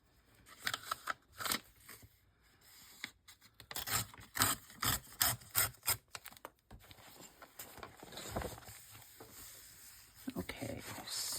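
Paper being burnished by hand while making an envelope journal, a close run of quick rhythmic rubbing strokes in bursts, followed by a quieter stretch of steady scraping.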